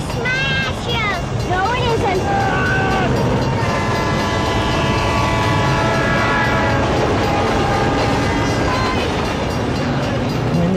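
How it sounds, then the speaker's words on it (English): A train rumbles past close and loud, its wheels and carriages roaring continuously, with horn-like tones sounding over the din for the whole stretch. "Train went by."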